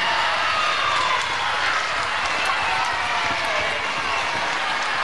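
A wrestling arena crowd roars and applauds in a dense, sustained wash of cheering and clapping, loud and continuous from start to finish.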